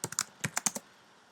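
Keys on a computer keyboard clack in a quick burst of about eight taps as a username and password are entered, close and fairly quiet, then stopping into silence.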